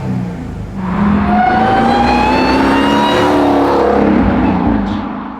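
Tuned, manual widebody Dodge Charger Hellcat with a MagnaFlow exhaust revving up hard, a loud close engine roar climbing in pitch, holding, then dropping away.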